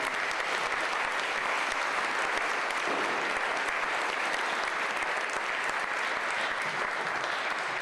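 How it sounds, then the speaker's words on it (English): An audience at a mayoral candidate forum applauds all the candidates, a continuous, even roar of many hands clapping, filling the room at a steady level from start to finish. "can we just have a round of applause for all of our candidates here tonight?"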